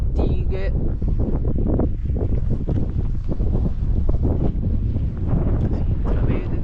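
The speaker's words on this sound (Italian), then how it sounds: "non so se si sentirà perché si è alzato il vento" Strong wind buffets the microphone throughout at a giants' tomb in Borore, Sardinia, a loud steady roar with gusty rumbling.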